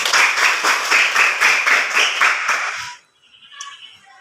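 A classroom of students claps hands together in quick rhythmic bursts, loud and close, then stops abruptly, leaving a few faint sounds afterward.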